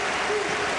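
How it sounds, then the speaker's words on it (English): A basketball arena crowd applauds a returning player, dense steady clapping and crowd noise throughout this brief moment. "the crowd salutes his return to the floor here"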